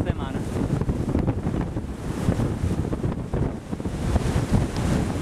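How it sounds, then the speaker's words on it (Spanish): Wind buffets the microphone on Levittown beach in Toa Baja, mixed with a continuous wash of surf and breaking waves, loud and close throughout without pauses. "Aquí desde la playa de Levittown"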